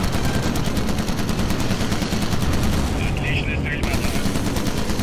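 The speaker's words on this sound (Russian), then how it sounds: "Отличная стрельба. Отлично." Rapid gunfire from the Call of Duty: United Offensive video game, dense continuous machine-gun bursts and shots filling the whole stretch at loud, steady intensity.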